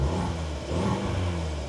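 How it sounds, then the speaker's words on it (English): A 2019 Fiat 500 Turbo engine starts, idles and revs with a steady low rumble, loud and close, and a faint turbo whistle rises above it. "And then the engine starts right up"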